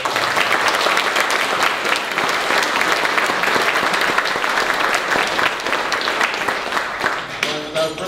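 Loud, dense audience applause at a business club luncheon, a continuous wash of many clapping hands lasting about eight seconds before starting to thin out, close and full.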